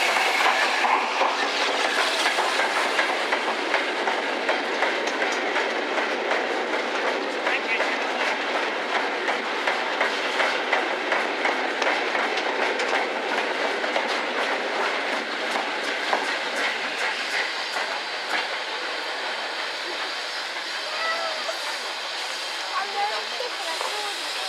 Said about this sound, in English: Meanwhile, here comes Sir Lamel with the wind cutter train.